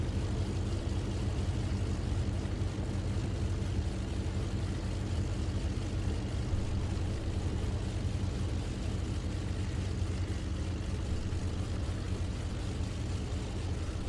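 Steady, continuous drone of a Messerschmitt Bf 108 Taifun propeller engine in a flight video game, a dense low rumble held at constant level throughout, with no talk over it.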